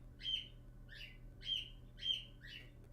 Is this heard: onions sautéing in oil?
no